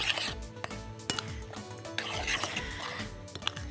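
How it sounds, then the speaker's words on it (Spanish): A spoon clinks and scrapes against a bowl while kimchi paste is stirred, with irregular sharp metallic taps and wet mixing sounds repeating close up throughout. "y lo mezclamos."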